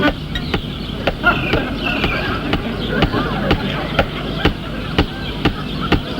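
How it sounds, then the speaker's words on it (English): Sharp, evenly spaced taps of a small hammer repeat steadily about twice a second over a murmur of background noise and faint talk. "The sound you heard was in fact made by a small Bavarian hammer"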